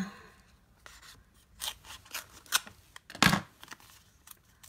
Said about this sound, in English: those were my ribbon scissors